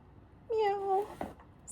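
A voice imitates a cat meowing a mournful funeral song, one drawn-out wavering meow sung softly and alone, followed by a brief faint breathy sound.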